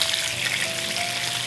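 Chicken pieces fry in oil for a fusion chicken curry, with a brief, even, loud and close sizzle and no voices.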